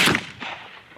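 A single loud shotgun blast from a Century Arms PW87 lever-action shotgun, a sharp close report that rings out and fades over about a second outdoors.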